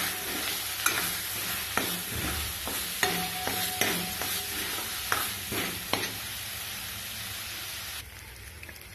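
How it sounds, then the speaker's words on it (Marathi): Spice paste for yelwani amti fries in oil with a loud, continuous sizzle while a spoon stirs and scrapes in a run of quick clacks, then the sizzle carries on alone. "आता आपण याला पेस्टला तेल सुटेपर्यंत छान असं परतून घेऊयात तेलामध्ये"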